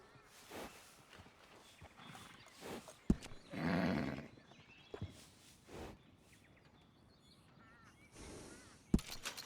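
A horse at a stable gives a drawn-out whinny amid a few sharp thuds and knocks and softer ambient game sounds, heard fairly close in a quiet setting.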